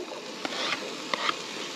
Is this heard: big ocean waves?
no